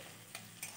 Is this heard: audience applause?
no